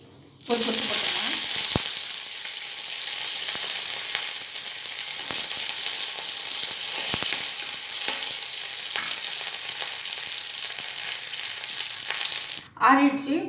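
A loud, steady sizzle of curry leaves frying in hot oil with mustard seeds and urad dal, filling the whole stretch and cutting off briefly near the end.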